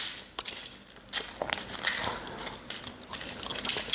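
Someone bites into an Indian-style chicken crunch wrap, making close, crisp crunches and crackles in several bursts with chewing between them, and no talk.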